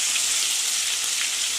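Garlic paste added to whole garam masala spices, dried red chillies and sugar frying in hot oil: a dense, even hiss of sizzling fills the whole moment, close and loud, with no talk.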